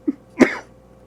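A single short, sharp sneeze-like burst, close and fairly loud, preceded by a brief soft vocal sound and then quiet.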